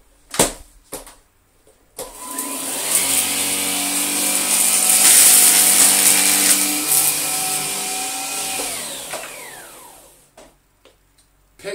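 A Gtech Air Ram Mk2 vacuum cleaner picks up spilled rice, its motor whirring up for several seconds alongside a faint rattle of grains, then winding down, close and loud with no talk.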